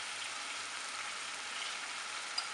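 Mutton sizzles and fries steadily in a pan, making a continuous close, even crackle with no pauses and no voices.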